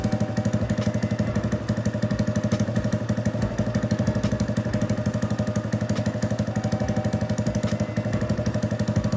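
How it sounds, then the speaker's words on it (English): A Honda Grom motorcycle with a newly installed cam idles steadily while warming up, its single-cylinder engine putting out an even, rapid loud chugging that stays near and constant throughout with no talk. "I'm gonna pick up a bit here while the bike is warming up"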